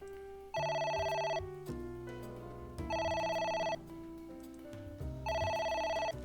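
A telephone rings in AI: The Somnium Files, an electronic bell tone repeating in three bursts of about a second each over a quiet musical background, with no voices.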